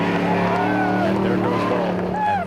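Baldwin's off-road race truck pulling out of the pit during the Baja 500, a close engine howl that rises in pitch, with voices and crowd noise around it.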